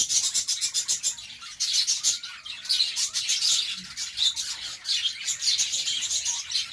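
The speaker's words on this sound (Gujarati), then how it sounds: "કેવા ચી ચી ચી ચી ચી કરે છે." Caged lovebirds chirp close by in a rapid, continuous stream of bright, high tweets and squawks, with no talking.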